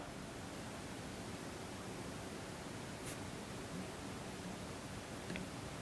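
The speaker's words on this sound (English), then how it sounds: "In silent mode, the purifier is on the lowest fan speed setting" Steady, soft broadband whoosh of a Molekule air purifier fan running quietly on its lowest speed in silent mode, constant and even throughout with no other sounds.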